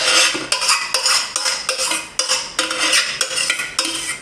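A spoon scrapes and scoops through homemade cottage cheese curds in a bowl, a run of repeated wet metallic scrapes and clinks in quick irregular rhythm, close and fairly loud with no talking.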